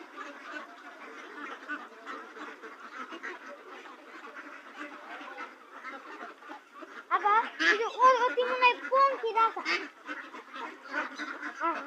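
A flock of ducks feeding on a pond, quacking and honking continuously nearby, growing louder and busier partway through, with a person talking over the birds.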